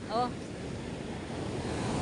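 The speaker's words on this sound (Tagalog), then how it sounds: "Ang lalaki po ng alon" Big waves surging onto a shore during a typhoon, a low, continuous roar of surf mixed with wind buffeting the microphone, with a brief voice heard near the start.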